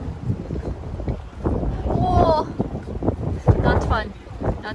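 Gusty wind blowing outdoors in Tokyo, rumbling across the microphone in uneven surges while people chat nearby.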